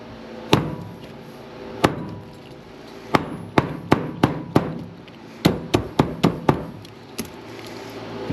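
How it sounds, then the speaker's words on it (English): A hammer strikes a scrap electric motor to knock copper windings loose, about fourteen sharp metallic blows at uneven intervals, some spaced apart and others in quick bursts, loud and close. "hitting the backside with a hammer"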